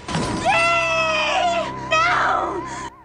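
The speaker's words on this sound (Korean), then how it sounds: "아이 엄마의 비명소리는 온 마을을 휘감게 되고" A mother screams in a movie scene, with loud, sustained high wailing cries in two long bursts that sound almost like sobbing.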